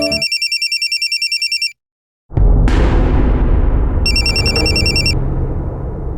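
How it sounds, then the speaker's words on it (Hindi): An electronic telephone ringtone pulses rapidly and then cuts off. After a short silence a loud, booming burst follows, and the ringing resumes over its fading rumble, with no voices. "किसका फोन था?"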